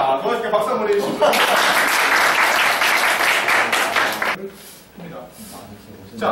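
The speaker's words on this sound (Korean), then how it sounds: "도와주게 박수 한번 해주십시오." A lecture audience breaks into dense, loud applause that swells for a few seconds and then drops away abruptly, leaving quieter room sound with a voice speaking over it.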